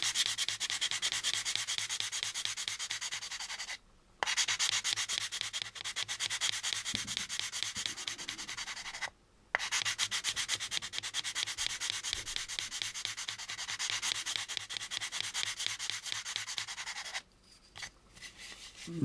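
Steady back-and-forth sanding on a plastic AMT U.S.S. Enterprise model kit part, a close, rhythmic scratchy rasp running almost continuously with a few brief pauses between passes.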